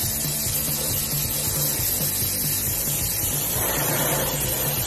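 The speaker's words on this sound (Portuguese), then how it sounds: "depois eu tô dando o acabamento com a pistola" Spray gun laying a finish coat over a hydrographic-painted part, a steady close hiss running unbroken for several seconds, with no talk.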